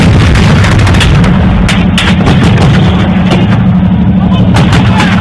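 Battlefield gunfire between the Nigerian army and Boko Haram, dense bursts of shots and booms crackling continuously at high level, with voices underneath.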